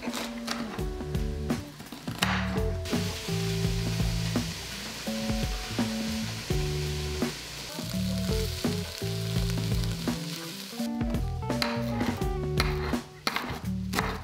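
Corn kernels fry in a pan with a steady, close sizzle that runs the whole time beneath louder background music.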